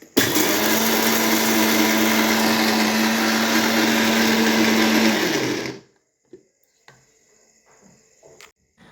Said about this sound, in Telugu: దీంట్లో ఎర్రగడ్డ, వెల్లుల్లి, కొంచెం చింతపండు అయితే వేసుకొని ఉప్పు వేసుకొని మిక్సీ అయితే కొట్టుకోవాలి.